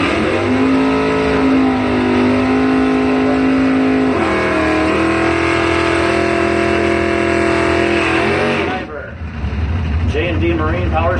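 A 1967 Chevrolet Camaro drag car roars off the line at a drag strip, a loud sustained engine howl climbing through gear changes before cutting off abruptly near the end, leaving quieter background noise.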